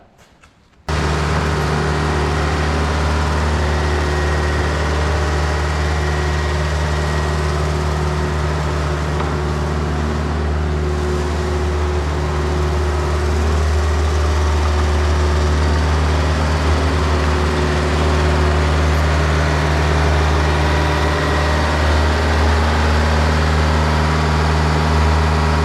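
A 'Bobby' machine engine starts up abruptly and settles into a loud, steady idle with a deep, droning hum that runs unbroken for the rest of the stretch.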